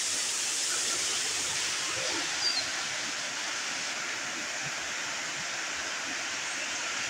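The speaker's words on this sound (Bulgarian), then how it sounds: "Водопадът Ливадитис." Livaditis waterfall in the Greek Rhodopes mountains roars as a steady, loud broadband rush of falling water, continuous and unbroken with no voices.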